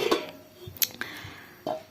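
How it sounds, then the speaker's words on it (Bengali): Clay cookware for frying chitoi pitha and a matching lid handled, giving a few sharp ceramic clacks and knocks spaced irregularly, close and fairly quiet. "চিতই পিঠা ভাজার একটা সাজ আর একটা ঢাকনা"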